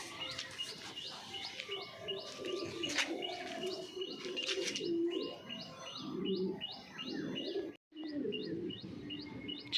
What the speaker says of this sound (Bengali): এই পায়রার লফট, কিছু পায়রার আপডেট দেখাবো।